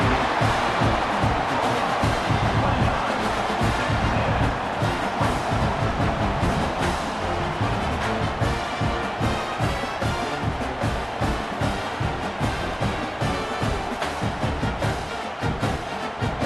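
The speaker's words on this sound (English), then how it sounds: "this crowd is buzzing after that last score." Dense stadium crowd noise from EA Sports College Football 26 after a score, a loud continuous roar with a rhythmic pulsing undertone throughout.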